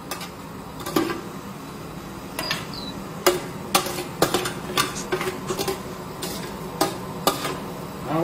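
A utensil clinks and scrapes against a pot in irregular taps while water bubbles softly underneath; no one speaks.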